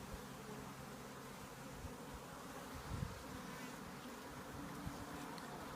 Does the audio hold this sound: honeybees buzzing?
yes